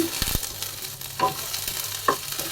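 Raisins and nuts frying in ghee for carrot payesh, a soft crackling sizzle with a few sharp stirring knocks and scrapes over about two seconds, no voices.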